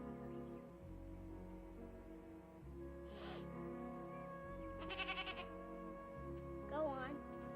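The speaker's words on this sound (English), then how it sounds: "Darn goat! Go on!" A goat on a prairie farm bleats in several short wavering calls spread over the stretch, heard fairly faintly under a steady low hum and background sound.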